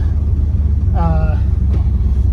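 A 1967 Pontiac GTO runs on the road, filled with 93-octane fuel, its low engine rumble steady and close throughout, with a brief rising rev tone midway.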